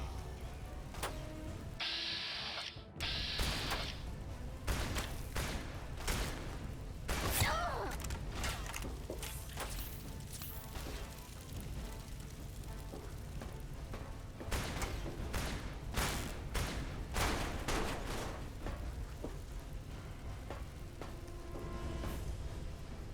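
Sharp, irregular cracks from a turret's gunfire in Fallout's Tale of Two Wastelands, scattered through a long stretch of game combat alongside mechanical clicks and clatter, moderately quiet and far off.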